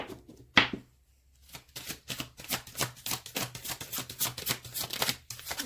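A deck of cards is shuffled up close in a quiet room: a sharp riffle snap, a pause, then a long run of rapid, crisp rhythmic flicks and slaps of cards with no talking.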